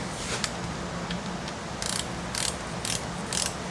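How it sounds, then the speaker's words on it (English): A torque wrench ratchets a socket down, producing a string of close, crisp clicking bursts at a steady, regular pace, clear against a constant background noise. "Get a torque wrench."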